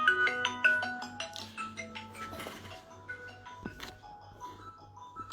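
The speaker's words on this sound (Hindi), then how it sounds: "ये कॉल अब नहीं उठेगा और कभी नहीं उठेगा।" A phone plays a melodic ringtone for an incoming call, a chiming tune of stepped tones repeating clearly in a quiet room with no one speaking.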